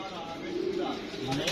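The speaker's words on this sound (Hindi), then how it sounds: "ये जी कबूतर शबूतर बैठे हैं।" Pigeons perched in a netted loft give soft, low cooing, faint and close in a quiet space.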